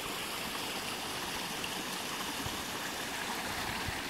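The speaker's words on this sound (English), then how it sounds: "On the way to Schickler's, there's a nice stream here." A nice stream along the way to a rock-hounding site, its water rushing and babbling steadily and loud throughout, close by, with no talk.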